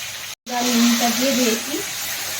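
Steady frying sizzle of taro with salt and turmeric in a pan, a continuous hiss that briefly cuts out near the start, with a low humming voice-like tone beneath.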